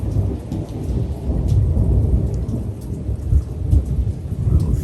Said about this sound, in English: A little thunder.